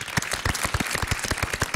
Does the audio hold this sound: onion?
no